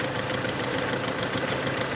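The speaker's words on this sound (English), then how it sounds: "So the valve noise is there." A running Peugeot 307 2.0i engine makes a fast, steady ticking valve tappet clatter over its hum, the rhythmic tapping close and continuous throughout.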